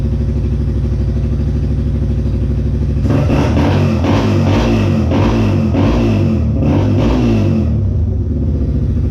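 A project motorcycle fitted with a new Amazon carburetor idles with a steady rumble, then is revved in a series of rising and falling throttle blips, loud and close, with no talking.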